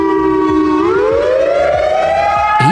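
A civil defense siren wails alone, a loud sustained tone that holds low, then rises and climbs steadily in pitch, with a faint pulsing rhythm underneath.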